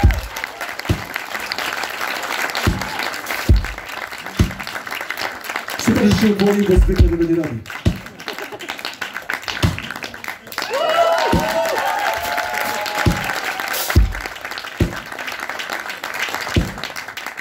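A concert crowd applauds a drummer at a hip-hop show, steady clapping and some cheering running throughout, with someone talking over it and brief tonal bursts in the middle.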